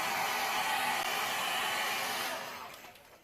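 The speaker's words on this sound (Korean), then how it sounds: "강의 시간 때문에 어쩔 수 없이 드라이기를 사용했습니다만" A hair dryer blows a steady, close, loud airy roar over a wet ink-wash painting of clouds and fog, then winds down and fades near the end.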